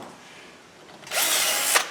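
Power drill boring through the cotter pin hole on a Ford Ranger build, the motor spinning up suddenly to a loud close whine that holds for under a second, then winds down after a brief spike.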